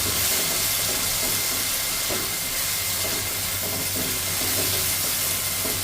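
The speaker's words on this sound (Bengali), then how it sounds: "এই মশলাটাকে আমি আরেকটু ভালো করে কষাবো" Spices fry for a catla fish curry in a hot pan, giving a loud, steady hissing sizzle with faint clinks of a stirring spoon, close up and continuous with no voices.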